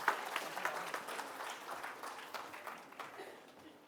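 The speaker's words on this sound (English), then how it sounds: "let's understand what Mr. Rajeshwar Reddy has got to say and give him a big round of applause" Quiet audience applause at a business talk event, with scattered claps that gradually fade over a few seconds.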